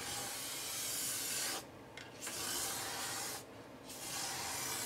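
In a home autobody repair, a corrosion-resistant coating is sprayed from an aerosol in long, loud, continuous hissing bursts, broken by two short pauses, with no speech.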